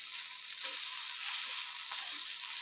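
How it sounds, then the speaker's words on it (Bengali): Spices fried in a pan for a fish bati chorchori, giving a steady, even sizzle at moderate level with a couple of faint stirring clicks and no voices. "মশলাগুলোকে আমি ভালো করে ভেজে নেব একটু।"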